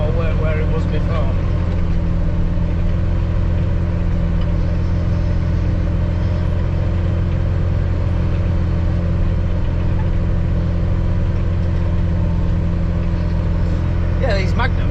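A Case Magnum tractor's 8.3 Cummins diesel engine drones steadily at a low idle, loud and close, running throughout with brief voices at the start and end.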